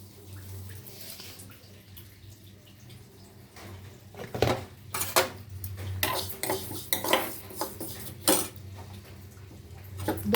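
Sesame seeds being stirred in a metal pan, with scattered clinks and scrapes of a spoon against the pan over a low background hum, the scraping growing busier partway through.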